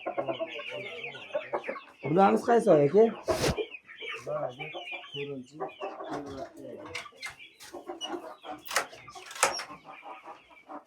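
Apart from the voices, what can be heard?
chickens and chicks clucking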